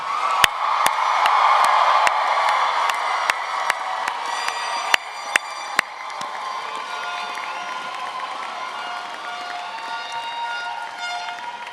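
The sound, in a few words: audience applause for graduates at ceremony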